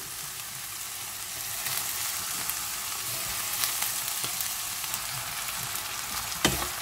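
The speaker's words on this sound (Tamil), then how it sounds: "இது வதங்கி கொண்டிருக்குது." Soaked cashews and chopped vegetables sauté in hot oil in a pan for vegetarian fried rice, giving a steady, even sizzle with a faint stir scrape and a sharper clack near the end.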